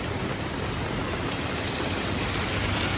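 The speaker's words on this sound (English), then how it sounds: "倾盆大雨。" Heavy rain pours down in a sudden downpour, a dense, even hiss of water on surfaces that stays loud and unbroken throughout, with no voices.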